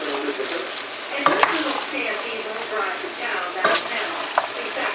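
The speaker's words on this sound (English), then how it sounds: "We'll go ahead and give this a light stir." A spoon stirring cabbage in a pan, sizzling softly throughout, with a few sharp scrapes and clinks of the utensil against the pan.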